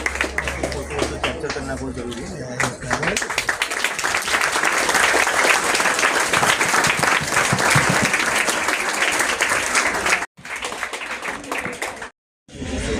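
Loud, sustained clapping from a large audience at a school award ceremony at Holy Mother English School in Malvani, a dense roar of hands lasting about ten seconds before cutting out briefly.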